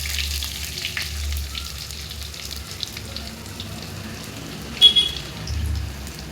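Crushed curry leaves, ginger and garlic with green chillies frying in oil in a pan for Kundapura chicken sukka: a soft, low sizzle with faint crackles and a brief louder burst of spatter near the end.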